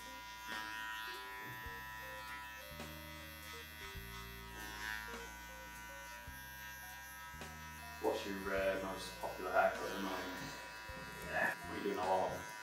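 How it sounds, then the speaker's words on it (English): Electric hair clippers buzzing steadily during a skin fade haircut, a faint continuous hum under music, with someone talking over it toward the end. "Just making sure I'm clearing the area as well that I've just been over with the clipper."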